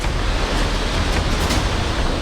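The swollen Song river in flood in Dehradun rushes past as a steady, loud, broadband roar of turbulent water with no voices.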